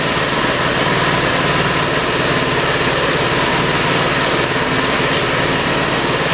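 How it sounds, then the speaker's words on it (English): A 150cc scooter engine idles steadily after a carburetor adjustment, a loud, close, even buzzing putter that holds a constant pitch without revving, with no voices over it. "What you're hearing right now is a good idle."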